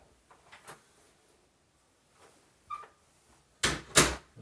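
Rehung interior door that had been dropping, swung through several soft movement sounds and faint creaks, then closing with two louder knocks close by.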